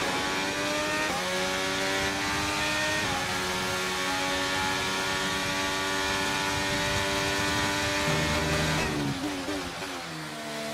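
Formula 1 race cars in the F1 23 racing game scream past at high revs, a dense, continuous engine wail with stepping gear-change pitches and a brief tire squeal, loud and unbroken throughout.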